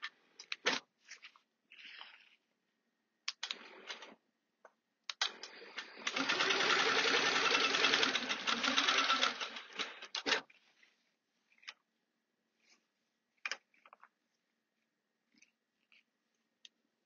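Sewing machine stitching a quilt along a triangle half an inch in, a steady whirring run of about four seconds in the middle, framed by scattered short clicks and handling noises and otherwise quiet stretches.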